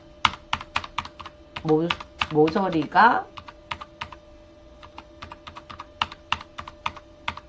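Arrow keys on a computer keyboard are pressed again and again in quick clicks, steady and close, with a short stretch of talk partway through.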